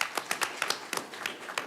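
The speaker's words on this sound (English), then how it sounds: "let's clap for our staff" A small audience claps for school staff at a board of education meeting, sparse, uneven claps close by, lasting under two seconds.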